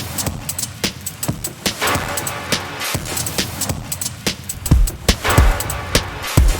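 A drum loop wet with early-reflection room reverb, its sharp, steady hits repeating in a quick pattern with a short roomy tail, loud and alone.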